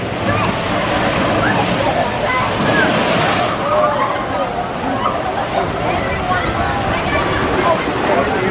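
Mystic River Falls water ride at Silver Dollar City, a loud, continuous rush of falling and splashing water, steady and close.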